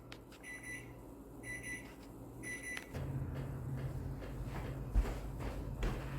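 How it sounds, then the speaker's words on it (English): A kitchen timer goes off while shrimp cooks, with repeated electronic beep bursts in a steady pattern over a low background hum, followed by clattering kitchen handling noises. "Oh, that is my timer for the shrimp."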